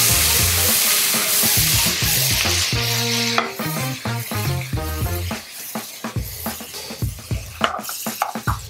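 Paneer stir-fried in a pan with no onion or garlic: a loud, bright sizzle with stirring at first, then lighter clinks and scrapes of utensils under background music.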